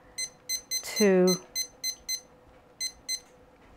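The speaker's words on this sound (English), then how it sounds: "I'll just press the button when I hear the beep." An oven timer gives a series of evenly spaced, bright electronic beeps, about a dozen in under four seconds, while a voice briefly speaks over one of them.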